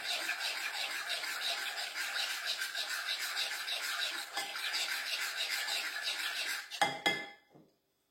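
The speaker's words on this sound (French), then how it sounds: "il suffit de le mélanger comme il faut" A spoon scrapes and clinks steadily around a bowl of melted chocolate with a splash of rum, a continuous close rubbing that stops abruptly near the end after a couple of sharper knocks.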